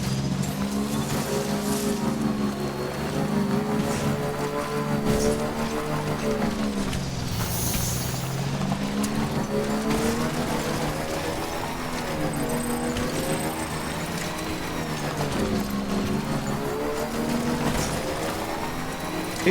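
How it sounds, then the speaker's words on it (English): A motorbike in Death Stranding labors over a rough, rocky road, its engine droning loudly and steadily, rising and falling in pitch as the rider struggles over the uneven ground. "Not doing so well riding this bike."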